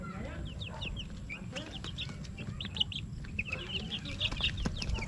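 Chickens cluck and chatter in short scattered calls at a moderate distance over a steady low rumble, with faint talk in the background, near a pen for Peking ducks.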